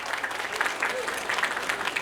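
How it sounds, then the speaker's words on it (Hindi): A crowd at a mass community wedding celebration in Mira-Bhayandar applauds for the women, a steady, moderately loud patter of many hands throughout. "आप लोगों से कहूँगा कि इनके लिए आप लोग तालियां"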